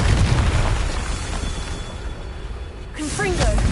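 A Confringo blasting spell exploding in Hogwarts Legacy, a loud booming burst with rumbling low end that fades, followed by brief sharp magical chirps; a voice is faintly present.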